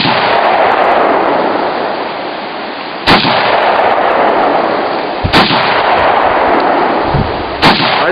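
Three loud gunshots fired outdoors at a mountain campsite, sharp cracks spaced a couple of seconds apart, each followed by a long booming echo and rumble.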